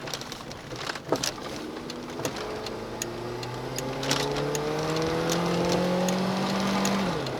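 A car on a test drive as its gearbox is tried out, engine rising steadily in pitch through the gears with road and tyre noise, close and continuous, no talk.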